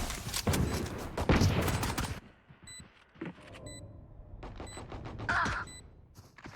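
Gunfire crackles in a Valorant match, with a dense burst of rapid shots up front followed by scattered single reports and softer in-game effects.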